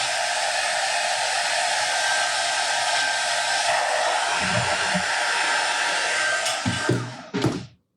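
A hair dryer blows at close range over a white sherpa snowman craft. Its loud, steady roar runs for several seconds, then wavers and cuts off with a few brief handling bumps.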